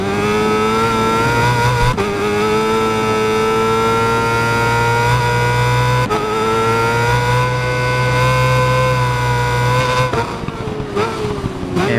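A BMW S1000RR superbike in the racing game Ride 5 screams loudly through its revs, the engine note climbing steadily with brief dips at gear shifts, constant and close with no talk.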